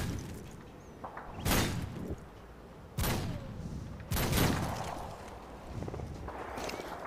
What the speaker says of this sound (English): Look at Bunker shooting at a freaking wall.